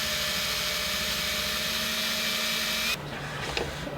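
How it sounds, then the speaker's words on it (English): A drill bores set screw detents into aluminum while working on an E46 power steering and steering guibo delete, giving a steady close whine for about three seconds before it cuts off, followed by faint shop noise. "I've drilled the set screw holes, not holes, just like detents in the aluminum"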